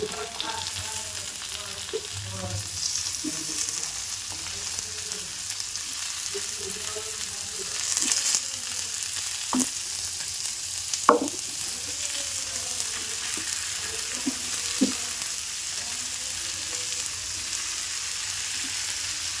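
Pomfret fish and prawns fry in masala in a pan, giving a continuous close sizzle with occasional clinks and scrapes of stirring throughout.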